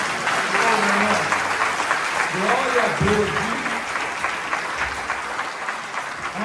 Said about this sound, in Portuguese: Posso ver a salva de palmas?